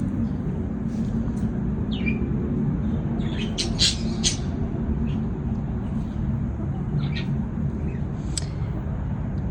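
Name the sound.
budgie parakeet squawking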